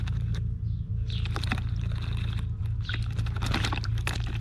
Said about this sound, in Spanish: Y al parecer también le gusta bañarse en el agua.